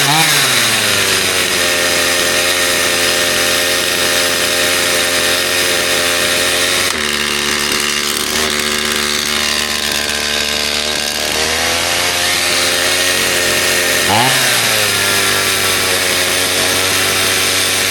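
A Stihl MS250 chainsaw of unknown condition idles high and steady, its engine drone loud and close throughout with a brief rev dip and surge near the end, no voices.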